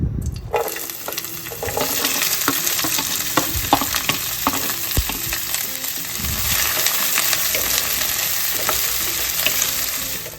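Oil sizzles steadily in a pot while sautéing for one-pot peri peri chicken rice, a continuous bright frying hiss with occasional scraping stirs and no talk.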